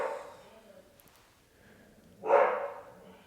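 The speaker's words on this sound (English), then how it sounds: "I tried to get away from a barking dog, and here's another one." A dog gives a single loud, close bark-like burst near the end, after a quieter stretch of faint background noise.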